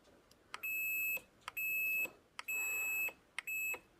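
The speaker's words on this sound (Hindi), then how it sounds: "जैसे प्रेस करेंगे तो यहाँ पर बजर बजने लगेगा कुछ इस तरीके से" A multimeter's continuity buzzer beeps as a mobile phone's power button is pressed during repair, four loud shrill tones each lasting about half a second, separated by short gaps and faint clicks.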